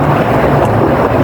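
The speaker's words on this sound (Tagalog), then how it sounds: "Masama kasi yung panahon, malakas yung hangin" Strong wind in stormy weather near a fishing boat's landing buffets the microphone in loud, rumbling gusts, a continuous low roar over a short stretch with no talking.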